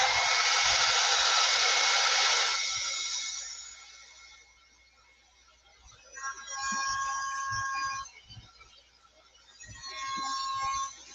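A hair dryer blows steadily at close range for about two and a half seconds while drying a printable design, then cuts off, followed by quieter tonal whirring and clicking in brief bursts.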